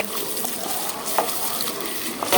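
Spices with garlic paste fry in a pan for mutton curry, giving a continuous close sizzle with faint scraping clicks and no talking.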